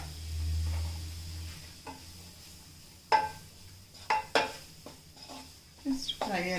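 Onions frying in a pan for pav bhaji, a soft sizzle punctuated by several sharp metallic clinks and scrapes of a utensil stirring against the pan.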